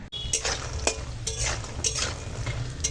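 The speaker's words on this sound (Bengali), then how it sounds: "এখন শাকটা রান্না করব, তার জন্য বড়িটা আগে ভেজে নিচ্ছি।" Bori lentil dumplings fry in a pan with a quiet sizzle, broken by several sharp clinks and scrapes as a utensil stirs them against the metal.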